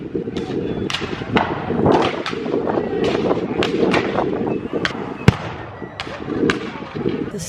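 Sharp cracks and booms from 19th-century battle reenactment explosions go off at irregular intervals across a noisy outdoor crowd of spectators in Florida, some near and loud, others distant.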